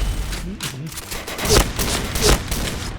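Rapid bursts of gunfire from the shooter game Point Blank crack out in several sharp volleys, loud and close, with a voice talking underneath.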